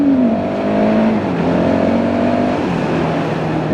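A KTM 690 Duke single-cylinder motorcycle accelerates hard to overtake. Its loud, close engine drone rises in pitch with each gear, with no speech over it.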